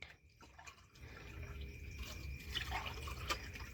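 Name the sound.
water dripping and filling a container until it overflows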